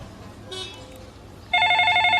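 After a brief muffled clatter, a telephone bursts into loud, bright electronic ringing during the last second of a quiet indoor moment.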